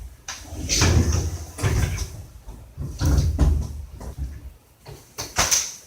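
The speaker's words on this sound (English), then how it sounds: "You just push it down and squeeze it up under the track and let it slide back into the track" A spring-loaded bifold door is worked back into its overhead track, giving a series of knocks, rattles and sliding scrapes in irregular bursts, close and moderately loud.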